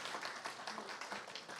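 An audience at a 2022 parent admissions seminar gives a brief, steady round of applause, with dense clapping filling the whole moment.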